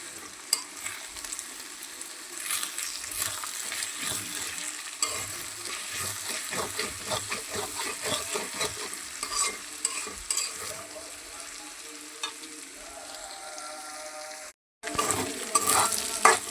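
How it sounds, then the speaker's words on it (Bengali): Eggs sizzle in a frying pan while being stirred with steady scraping strokes, a continuous close frying hiss with no talk. "এই যে এদিকে আমি আবার ডিম দিয়ে দিছি বাজির মধ্যে"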